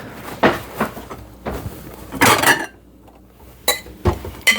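Dishes and a spoon clink and clatter as creamy Instant Pot mac and cheese is served into a bowl, with several short, close knocks and scrapes separated by brief pauses.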